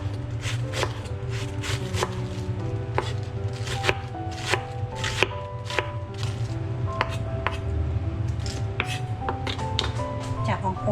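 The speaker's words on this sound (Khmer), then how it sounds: "ឡូវនាងខ្ញុំហាន់បន្លែបងប្អូន" Vegetables are being chopped on a board with a knife, a steady run of crisp, close knocks at an irregular quick rhythm over a low background hum, with faint talk in the background.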